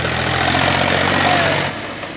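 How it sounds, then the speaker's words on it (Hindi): A tractor engine runs loud and close with a steady mechanical drone, dropping slightly in level near the end. "high speed tractor"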